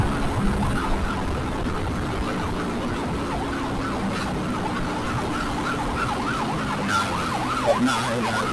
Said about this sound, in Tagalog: Daming ambulansya.